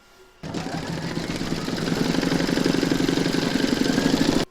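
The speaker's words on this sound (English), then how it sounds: "Pop your hoop back into your machine and stitch round number 6 to secure them." An embroidery machine stitching a round on an in-the-hoop stacked snowman, a loud steady mechanical whir with rapid needle pulsing that starts abruptly, rises slightly in intensity, then cuts off at the end.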